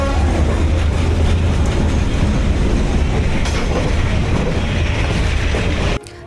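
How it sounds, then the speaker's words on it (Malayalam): A train rolls loudly and close through Hanoi's narrow train street, a continuous heavy rumble and clatter of wheels on rails that cuts off sharply at the end. "ട്രെയിൻ ഇപ്പോൾ വരുന്നതാണ് പറയുന്നത്"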